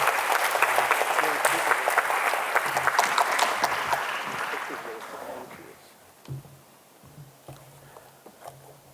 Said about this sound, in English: And for that, a special round of applause for Ismail.